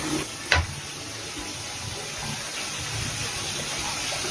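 Spice paste of turmeric, coriander and chilli powder frying in oil for rui fish kalia, a steady soft sizzle with a sharp clink near the start and light stirring scrapes, close and without talk.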